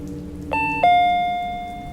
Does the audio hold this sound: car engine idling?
no